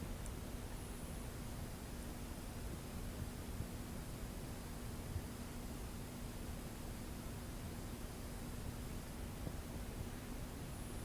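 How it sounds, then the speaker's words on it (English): A Craftmade Deluxe Hugger ceiling fan runs on low in an old house, its blades sagging slightly, giving a faint, steady airy whoosh with a constant low hum underneath and no voices. "So yeah, it's running on low, has a hum to it, and the blades are sagging slightly."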